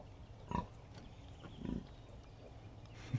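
A grumpy sow that has just farrowed a litter of ten piglets gives two short, low grunts close by in a barn, spaced about a second apart, against quiet background noise.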